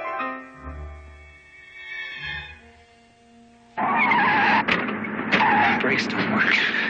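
A car skids with failing brakes in a 1976 film scene: tonal music and engine hum give way to a sudden loud burst of tire screeching and rushing noise that continues to the end.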